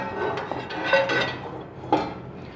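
Cast iron cookware, including a handleless dosa tawa bought in Kumbakonam, is handled and set down, giving a few close metallic knocks and clinks over a soft background rustle, with no speech.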